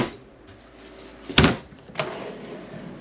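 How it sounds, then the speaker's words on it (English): Cupboard doors in a 2024 Keystone Bullet Crossfire 2680BH bunkhouse camper knock shut, a sharp close clap followed by a softer second tap in a quiet interior. "there's the cupboard doors right there"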